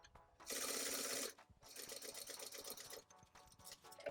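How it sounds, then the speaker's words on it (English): A sewing machine top-stitches around the edge of a fabric face mask, running in a loud steady burst, pausing briefly, then buzzing on again in shorter uneven runs close by. "making sure that we are keeping an eye as we top stitch around the mask"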